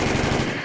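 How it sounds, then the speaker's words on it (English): Rapid gunfire rattles in a fast burst, a dense loud string of shots that fades at the end. "Gunshots were mixed in the air along with the animalistic screeches"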